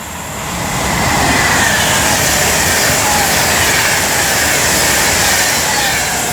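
Class 390 train 390.044 at Rugeley Trent Valley station on the West Coast Main Line, a loud broad roar that swells within the first second and holds steady as it rushes past close by.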